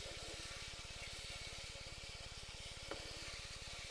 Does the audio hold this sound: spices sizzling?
yes